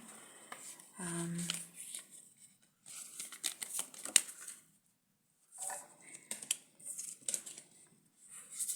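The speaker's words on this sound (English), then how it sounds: "Just going to shuffle now." Tarot cards being shuffled in several bursts of soft riffling and flicking, close up, separated by brief quiet pauses.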